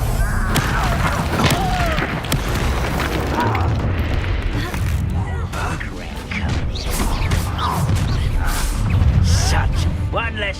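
Booming blasting-spell explosions from a Harry Potter-style video game, with loud impacts and crashing debris amid a busy fight, with voices talking over the action throughout.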